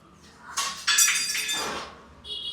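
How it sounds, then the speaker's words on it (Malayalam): A metal spoon dropped on the floor in a small Kerala street food eatery strikes with a bright clatter and ringing jangle that fades over about a second. Faint background noise runs underneath, and there is no talking. "സ്പൂണ് താഴെയിട്ട് ഇപ്പോൾ"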